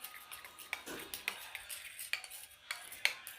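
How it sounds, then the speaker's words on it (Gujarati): Spoon stirring whipped cream with a pinch of orange food colouring in a bowl, giving a soft series of faint scrapes and light clinks at an uneven rhythm. "મિક્સ કરી લઈશું."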